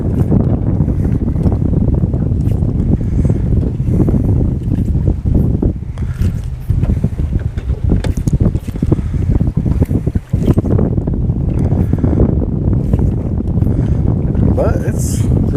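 Strong wind gusts across a lake while jig fishing from a boat, a loud, steady roar of buffeting and microphone wind noise with someone talking faintly underneath.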